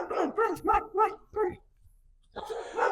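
Neighborhood dog barking in a residential street, a quick run of four or five sharp barks, then a pause and another burst, close and loud.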